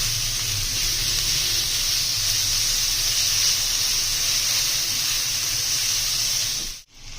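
Minced meat frying in a pan, a loud steady hiss and sizzle held throughout close by, cutting out abruptly just before the end.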